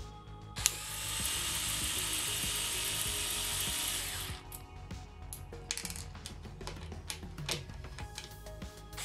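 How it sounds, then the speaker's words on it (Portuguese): A Topshak TS-ESD1 4V electric screwdriver backs out a screw with a thin, steady motor whir lasting about four seconds, followed by scattered ratcheting clicks and small clattering taps, close and faint. "Vamos tirar esse parafuso."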